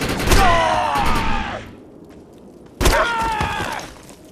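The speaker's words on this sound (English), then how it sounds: "The light machine gun is big, loud, and powerful. Its bursts are capable of crippling the enemy from both close and afar." Light machine gun bursts from a video game fire as two loud, dense volleys, each fading with metallic ringing and tails, separated by a brief lull.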